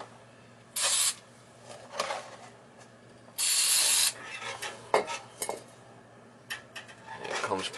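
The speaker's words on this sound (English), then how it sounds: "Just spray some carburetor cleaner on there" Two bursts of carburetor cleaner aerosol spray hiss close by, a short one then a longer one, among scattered clinks and rubbing sounds of handling parts.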